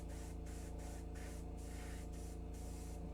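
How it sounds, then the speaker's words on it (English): An airbrush or spray can lays purple paint down for a space nebula pattern on a miniature, in short repeated hissing bursts with brief gaps, close and steady. "We're just spraying it, turning it all purple."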